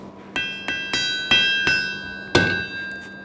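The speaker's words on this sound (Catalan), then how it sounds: "es picava un martell i dos malls, i que si es feia ben fet sonava com un vals" A hammer and two sledgehammers strike iron at a forge, ringing metallic blows falling in a steady, waltz-like rhythm, each hit clear and resonant with a lingering tone.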